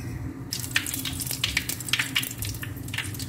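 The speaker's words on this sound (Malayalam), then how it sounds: "ഈ എണ്ണയിലേക്ക് തന്നെ നമുക്ക് കുറച്ച് കടുക് ഇട്ട് കൊടുക്കാം." Mustard seeds drop into hot oil for a beef pickle, crackling and popping in quick irregular bursts over a steady frying hiss, close and fairly loud.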